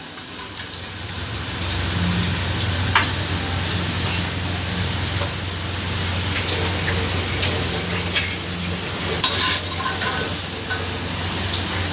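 Food frying in a pan while being stirred, giving a continuous dense crackling sizzle at close range with scattered scraping ticks and low background hum.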